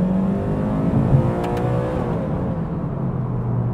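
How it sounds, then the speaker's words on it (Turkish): A 2012 Toyota GT86's boxer engine drawing air through its intake as it revs, a steady loud whir and growl heard from inside the cabin that rises and then eases off. "Boxer motorun sevdiğim yönü emiş kısmı yukarıda olduğu için sürücüye daha yakın. Emiş sesi de Hemen geliyor."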